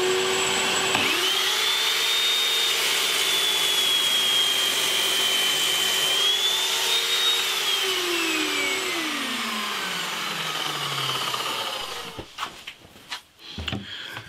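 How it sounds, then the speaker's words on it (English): A mitre saw set to 14 degrees whines up to speed and slices through a hardwood block, a loud sustained motor tone that dips under load, then winds down, followed by a few knocks and clatters. "What I've done, I've set this mitre saw to 14 degrees."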